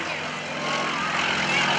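A loud, steady roar of a Pitts Model 12 aerobatic plane's engine at high power, close by and sustained without a break, at an airshow.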